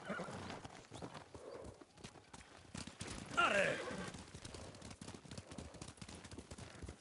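Horses galloping with clip-clop hooves during a Ghost of Tsushima game sequence, steady rhythmic beats with a whinny partway through, moderately loud against background game sound.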